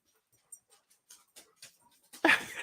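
A small dog named Winnie gives faint, scattered whimpers and soft breathy sounds close by, ending in a louder, rougher yelp-like outburst.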